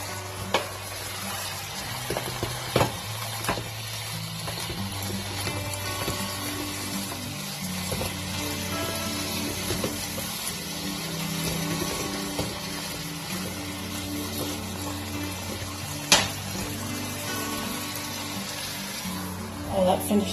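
Meat cooking in a pot for a stew gives a low, steady bubbling simmer with faint sizzling, broken by occasional clinks and knocks of utensils.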